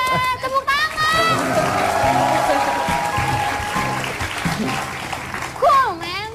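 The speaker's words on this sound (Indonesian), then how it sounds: "Tepuk tangan" Studio audience applause on an Indonesian television talk show, a loud crowd clapping beneath a host's sung and spoken voice, with cheering and musical tones sliding over the clapping.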